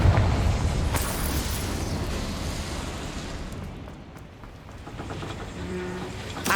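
Confringo, the fire-blast explosive spell from Hogwarts Legacy, going off as a dense, sustained rumbling roar with a few sharper bursts, loud and fading slightly before a late swell.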